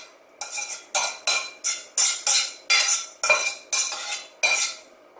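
A utensil scrapes and pats mac and cheese into an even layer in a greased casserole dish, about ten distinct rhythmic scraping strokes, close and fairly loud, with nobody talking.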